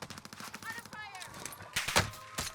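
Gunfire in the video game Warzone on Rebirth Island, heard as a brief, loud cluster of sharp cracks late in the moment, over a busy bed of in-game noise and voices.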